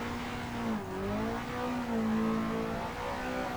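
A drift car's engine in the Assetto Corsa racing sim rises and falls as the throttle is lifted and reapplied, a close, continuous revving tone with no voices.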